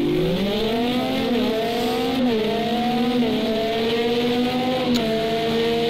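Racing cars in the game Project CARS 2 howl through an endurance race at Monza, with loud engines rising and falling in pitch on upshifts and several cars layered close together, without audible commentary.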